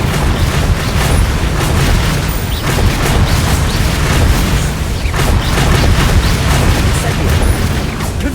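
Repeated Confringo and Bombarda spell explosions in Hogwarts Legacy, a dense run of booming blasts and fiery bursts, with stronger hits near 2.5 and 5 seconds, while a player yells spell names throughout.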